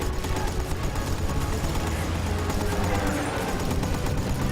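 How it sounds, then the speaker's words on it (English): A machine gun in the video game Bad Company 2 fires in a dense, continuous rattling burst. It is close and loud, with no pauses across the whole stretch. "It's surprisingly hard to aim this machine gun."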